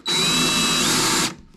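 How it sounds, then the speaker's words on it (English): A power drill whirs at steady high speed while boring a hole for mounting a rock light, one loud continuous burst that cuts off sharply before a short fading tail. "and then drill out the hole"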